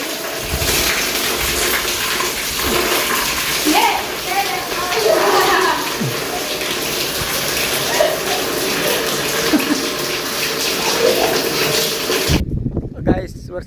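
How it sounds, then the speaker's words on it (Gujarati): Steady rain falls on a waterlogged farm field, a dense continuous hiss close by, with voices and talk mixed in before the sound cuts off near the end. "વરસાદ ધીમો થઈ ગયો પાછો"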